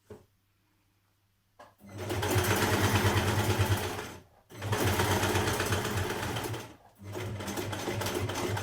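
Sewing machine running a tapered dress seam for a New Look 6679 dress, heard as three steady bursts of stitching separated by brief pauses, close and loud.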